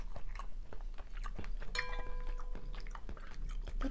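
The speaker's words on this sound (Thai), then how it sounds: "นี่หอยนางรมขอชิมก่อนนะ" Someone chews canned Chinese oysters, the firm, cold, salty shellfish giving a run of close, soft, wet bites with no talk, and a short tonal beep cuts in midway.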